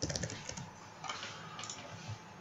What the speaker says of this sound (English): So I'm just going to type in 248 by